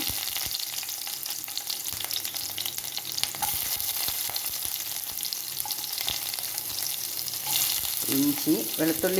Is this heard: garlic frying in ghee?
yes